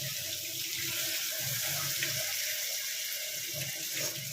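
Warm tap water runs from a faucet into a cooking pan of spicy potato and bitter gourd curry, a steady unbroken splashing stream filling the whole stretch with no voices.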